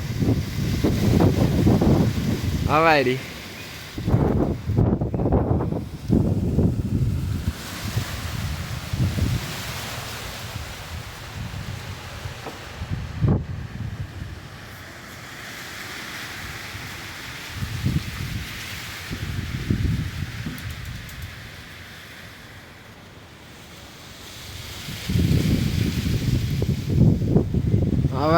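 Strong high wind gusts roar across an outdoor stadium, buffeting the microphone in heavy rumbling waves that rise and fall throughout, with someone talking briefly near the start and again at the end.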